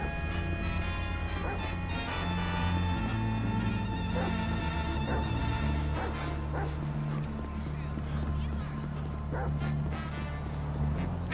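A dog in Grand Theft Auto V barks and yips repeatedly while being chased, amid a busy, cluttered scene with a sustained musical drone and occasional crashes, under overlapping voices.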